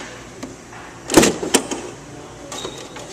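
A front door panel is lifted off a ventilation fan unit after its screws come out, giving a scraping rattle followed by a couple of sharp clicks of metal or plastic, moderately loud and close, with no talking.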